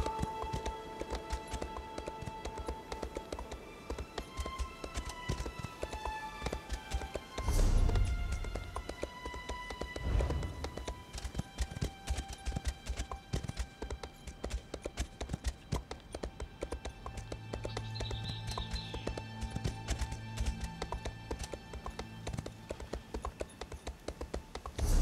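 An Imperial Horse gallops in The Elder Scrolls video game, with quick, steady hoofbeats over soft background game music and brief heavier thuds partway through.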